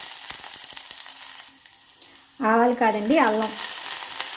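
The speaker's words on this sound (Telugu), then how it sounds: "దీంట్లో ఆయిల్ వేసుకొని ఆయిల్ వేడెక్కిన తర్వాత కొంచెం జీలకర్ర, తరిగి పెట్టుకున్న ఎల్లుల్లిపాయ ముక్కలు," Cumin seeds and chopped garlic sizzle in hot oil with a steady, close frying hiss that carries through, while a voice talks briefly over the middle of it.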